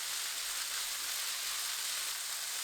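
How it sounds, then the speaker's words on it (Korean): Wood ear mushrooms stir-frying over medium heat with oyster sauce and soy sauce, giving a steady, even sizzle that holds without pause throughout, close and moderately loud, with no voices. "목이버섯 넣고 중불로 1분 30초 볶습니다."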